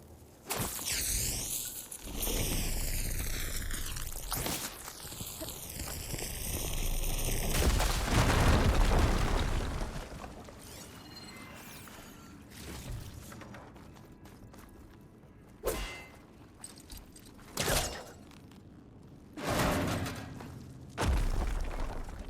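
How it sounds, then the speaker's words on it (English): A video game scene at a blocked tunnel: a long rumbling blast builds and roars for several seconds, followed by scattered thuds and debris impacts, loud and close with no talk. "Should be able to blow up that fire gleam."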